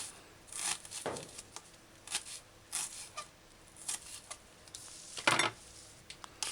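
A sharp kitchen knife slices vegetables for a chickpea, mushroom and pepper stew, giving a string of quiet, irregular cuts and taps on a board.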